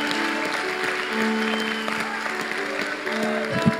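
A church congregation claps during a sermon, a steady patter of applause under sustained organ or keyboard tones, moderately loud and without speech.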